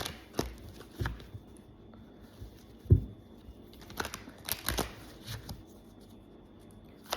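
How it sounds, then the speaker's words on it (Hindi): Tarot cards are pulled from a deck in several short, crisp flicks and shuffling rustles with quiet gaps between them, close and fairly soft. "I am taking some cards from here."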